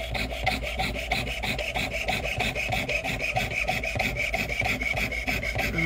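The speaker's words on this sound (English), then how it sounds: "I'm impressed by your straight line sawing" A hand saw cuts a metal ring blank in fast, even rasping strokes, close and steady throughout, with no talking.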